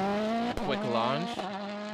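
A rally car launching hard, its engine screaming through a rapid rise and fall in pitch with a brief gear change, loud and close over about two seconds.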